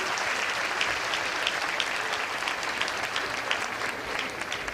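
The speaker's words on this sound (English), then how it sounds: "Give him a round of applause." An audience breaks into sustained applause, a dense, even wash of clapping from a crowd that holds steady for several seconds without talk.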